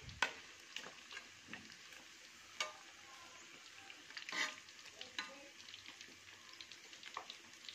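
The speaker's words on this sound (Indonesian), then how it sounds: "Nah ini masih menggoreng ayam." Quiet frying of chicken in oil in a pan, a faint sizzle with scattered clicks and stirring knocks, fairly soft with no voices.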